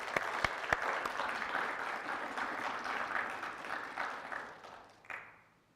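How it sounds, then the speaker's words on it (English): Audience applause at a Tryton software conference in Berlin, a dense run of clapping with a few sharp louder claps early on, sustained for about five seconds before a last swell and a quick fade to quiet. "I would like to give they both a big applause to thank."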